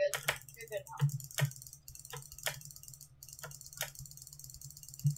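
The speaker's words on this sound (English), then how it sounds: "I'm having to use my double finger click." Mouse clicks during a Minecraft-style build battle game: quick, light clicks spaced unevenly at close range, some in pairs, over faint background hum with bits of talk.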